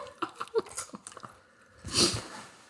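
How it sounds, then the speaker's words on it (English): A person eats raisin toast close to the microphone, with small crunchy chewing and biting sounds and soft breathing in brief bursts, followed by a louder rustly burst near the end. "Don't do it with me chewing in the background."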